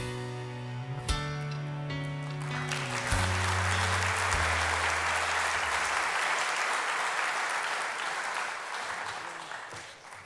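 Audience applause at a sports hall of fame induction ceremony, a broad sustained wash of many hands clapping that swells after a few seconds and holds steady, following a few fading musical tones at the start.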